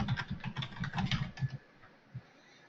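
Quick bursts of typing on a computer keyboard as a git command is entered, rapid clustered keystrokes for about a second and a half, then a single final key press, quiet and close.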